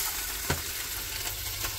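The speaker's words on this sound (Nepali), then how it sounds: "यहाँ टक्क मासु बनाउनु लागेको थियो" Meat frying in a pan in a home kitchen: a steady, close sizzle with faint scattered crackles and pops, heard alone without talk.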